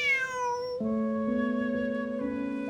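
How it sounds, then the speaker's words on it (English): A cat in the video game Genshin Impact lets out a drawn-out meow that falls in pitch, then a sustained, wavering yowl follows, loud and close, with no talk. "Bonnie is Pierre's cat."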